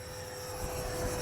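An Arrows 50mm T-33 RC jet model flying by, its steady high engine whine holding a tone with a faint low rumble and rising slightly, moderately distant and heard alone.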